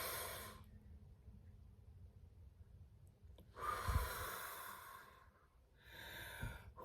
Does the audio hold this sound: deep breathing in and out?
yes